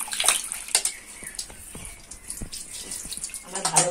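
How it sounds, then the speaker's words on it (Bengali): Cut potatoes being washed in water, with sloshing, splashing and dripping sounds that come and go, moderately close, and no talking. "দেখুন আমি ভালোভাবে আলুটা ধুয়ে নিচ্ছি।"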